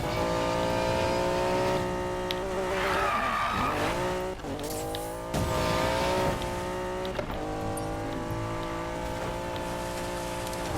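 Racing car in Need for Speed Payback tearing along with a loud, steady engine drone, tires squealing and skidding through turns, wavering revs throughout with no talk.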